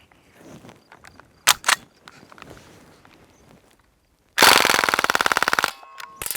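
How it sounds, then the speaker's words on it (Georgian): A Crosman R1 full-auto blowback CO2 BB rifle fires at a metal target. A few scattered single cracks and soft handling noises lead into a loud, rapid full-auto burst of about a second, then a brief pause and more shots. "ვესროლოთ ლითონის ამიზნეს"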